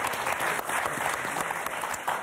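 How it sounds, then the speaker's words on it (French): A studio audience applauds on the French TV game show Motus with loud, dense clapping that stays steady throughout the short stretch, with no speech over it. "On s'applaudit ou on s'applaudit pas?"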